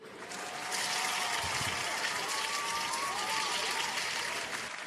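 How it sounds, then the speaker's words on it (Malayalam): A cartoon classroom of children applauds a kindergarten boy, with a steady wash of clapping that swells after a soft start and holds, faint voices underneath. "എല്ലാവരും അബുവിന് ഒരു ക്ലാപ്പ് കൊടുത്തേ"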